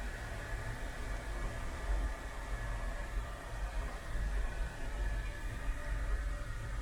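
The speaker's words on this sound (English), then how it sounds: "And the dryer, which does work eventually." A hand dryer in a train toilet blows a constant broadband roar that holds steady for several seconds, with low rumble from the moving train underneath.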